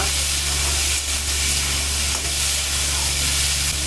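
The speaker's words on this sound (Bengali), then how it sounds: "এবার দিয়ে দিচ্ছি ভিজিয়ে রাখা ছোলা। ছোলা খুব ভালো করে নেড়ে দেব।" Soaked chickpeas hit hot oil in which chillies have just been fried, giving a loud, steady hissing sizzle that barely changes for the whole stretch, with no voices.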